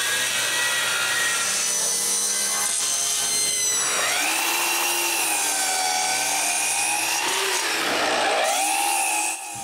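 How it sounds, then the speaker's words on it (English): A power saw cuts wood to size for a propane tank pickup rack, its loud steady whine rising and dipping in pitch as the blade bites, continuous and close throughout. "When I'm done, I cut it to the right dimensions."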